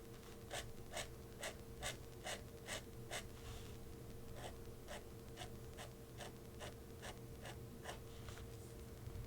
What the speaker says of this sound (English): Love that pen scratch on paper sound.